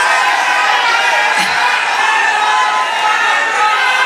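Large crowd cheering and whooping at a Lok Sabha 2024 election campaign rally in Parli, Beed, a dense, steady roar of voices that stays loud throughout, with no distinct clapping standing out.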